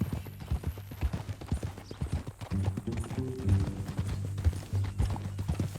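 Hooves clip-clopping at a steady walking pace on hard ground, close by, with a low hum underneath, from a horse in Red Dead Redemption 2.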